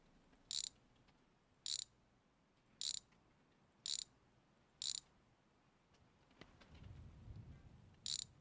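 A ratchet wrench works the cylinder head bolts loose on a Firebird engine, sounding as six short bursts of rapid, crisp clicking spaced about a second apart, with a low rumble near the end.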